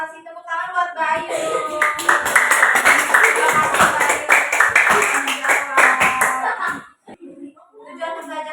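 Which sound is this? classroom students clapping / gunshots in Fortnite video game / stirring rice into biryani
classroom students clapping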